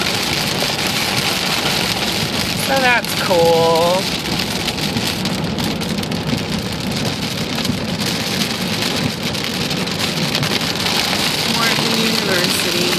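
Steady rain drums on a car in a flat, open area while people talk over it, the downpour loud and continuous throughout.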